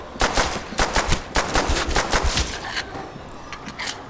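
Rapid bursts of automatic gunfire from the Call of Duty Nazi Zombies game, loud repeated volleys over several seconds that thin to a few scattered shots near the end.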